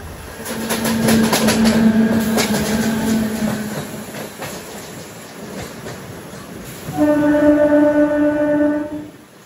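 The Rajahmundry–Kakinada Port MEMU passenger train runs loud and close, its rail clatter and rumble underneath two sustained tonal horn-like blasts, one early and one near the end.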